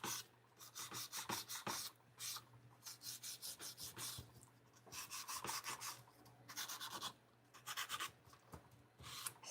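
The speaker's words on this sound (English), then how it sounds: "all you're doing is kind of filing your sides and making sure everything's clear" A hand nail file rasps along the sides of fingernails in short rhythmic bursts of strokes, close and fairly quiet, with brief pauses between sets and no talking.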